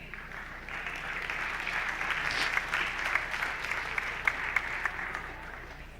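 Sustained applause from an audience at a high school winter sports awards ceremony, steady scattered clapping lasting several seconds at moderate level with no talk over it.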